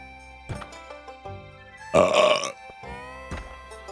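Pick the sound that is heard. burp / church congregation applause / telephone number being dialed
burp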